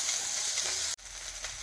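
Curry leaves sizzle in hot oil for a masala dosa filling, a loud steady frying crackle with a sharp burst as more leaves hit the pan, no talk.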